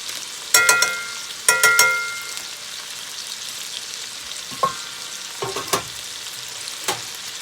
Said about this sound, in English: I'm gonna add some butter right here on my steak, that way I can glaze them while they're cooking.